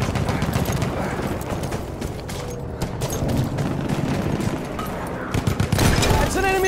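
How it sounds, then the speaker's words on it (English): Enemy machine gun fire rattles in a WW1 shooter video game, dense rapid bursts running almost continuously with scattered louder shots and clanks, a voice speaking over it. "That's an enemy machine gun."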